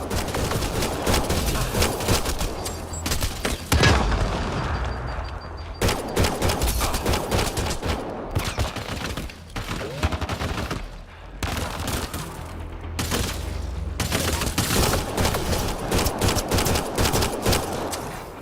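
Dense, sustained gunfire in the sci-fi video game Mass Effect Andromeda, rapid overlapping bursts and booms filling the whole stretch with hardly a pause, loud and close.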